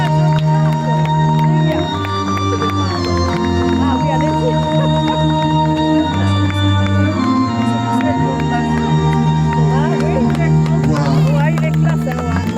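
Wedding guests cheer and applaud as the groom arrives, a loud sustained crowd roar with music playing throughout and a voice talking over it.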